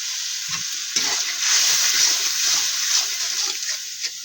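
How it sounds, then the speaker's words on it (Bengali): Onions and spices sizzle steadily in a hot pan, a close and continuous hiss with soft scraping as the mixture is stirred, and no talking over it. "পেঁয়াজ ভাজা হয়ে গেছে, মশলা দিয়ে নেব, ভালো করে ভেজে নেব।"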